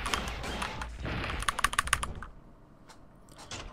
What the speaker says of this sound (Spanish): Eso es teclado mecánico, ¿verdad?